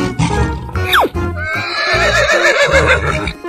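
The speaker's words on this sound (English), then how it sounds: "Horse." A horse neighs loudly and close by, a long shaky whinny that rises and then trembles downward.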